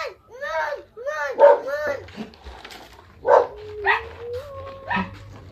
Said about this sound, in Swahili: wacha kubweka hivyo